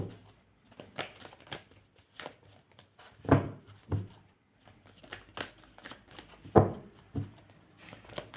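Playing cards being shuffled by hand at close range: repeated riffling bursts and soft slaps scattered through the stretch, a few louder strokes standing out, with no talking.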